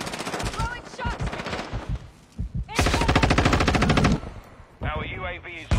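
Rapid automatic gunfire in an online multiplayer shooter game, loud, sustained bursts of machine-gun fire close up, broken by brief gaps, with a player's voice talking over parts of it.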